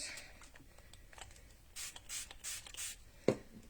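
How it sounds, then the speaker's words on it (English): Several short hissing bursts of a spray bottle, spaced irregularly, close and fairly quiet, followed by a brief click. "I'm going to spray and let it run."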